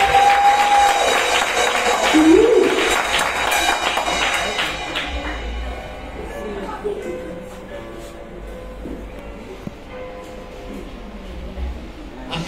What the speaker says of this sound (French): Applaudissez pour nous, vous aussi